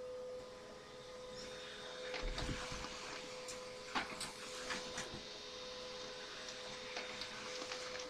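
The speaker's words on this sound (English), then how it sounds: "I will show you now my printer and we'll do the job together." An inkjet-style home printer running off pages of a multi-page poster, a faint steady mechanical whir with a constant hum and soft clicks and thumps as paper feeds, no voices.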